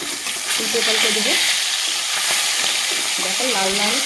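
Folui fish being turned over as it fries in hot oil in a kadai: continuous loud sizzling and crackling, with a couple of brief tonal scrapes or clatters from the flipping.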